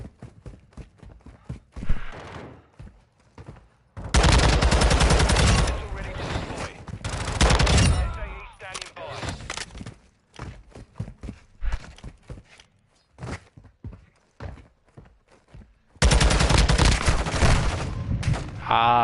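Call of Duty: Modern Warfare 2 gunfire, with loud sustained bursts of automatic fire in two long stretches, and scattered footsteps and quieter shots in between.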